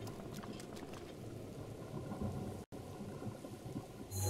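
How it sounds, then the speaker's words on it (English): Steady rain hisses and patters with a low rumble of thunder throughout in The Legend of Zelda: Breath of the Wild, a continuous quiet storm bed with a brief dropout and no talking. "Oh, it's raining and I can't climb."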